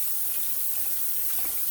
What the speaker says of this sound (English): get it in the sink, cold water, take your fingers, go from the stem, go all the way through, and completely wash